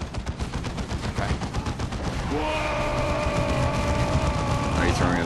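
Artillery strike in Warhammer 40,000: Dawn of War 2, a rolling barrage of booming blasts and rapid explosions that thickens into a sustained roar, with tonal effects rising over it toward the end.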